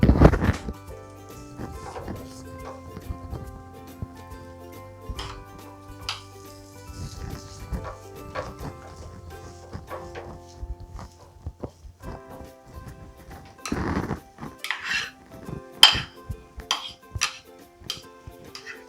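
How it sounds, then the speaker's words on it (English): Boiled potato being stirred into fried vegetables with green chili and spices in a pan, with irregular scraping and clinking of a utensil against metal, sparse knocks spread out and a few sharper clatters toward the end. "the boiled potato and mix it thoroughly"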